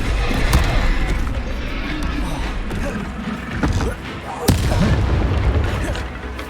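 Confringo spell blasts boom out amid steady rumbling mechanical noise and creaks during combat in Hogwarts Legacy, with one sharper impact standing out near the end.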